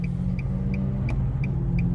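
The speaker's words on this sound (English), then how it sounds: "as I'm waiting to make this left turn, it's a pretty steady flow of traffic" Steady traffic rolls past on busy Ditmas Avenue, heard from inside a car waiting to turn left, as a low continuous rumble with a car's turn signal clicking evenly throughout and no voices.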